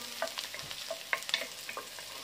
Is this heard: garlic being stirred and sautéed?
yes